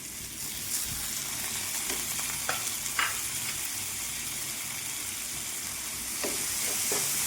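Onion, tomato and capsicum sizzle in a hot pan while an egg snack is cooked, a steady, close frying hiss that runs throughout, with a few soft stirring taps and no voices.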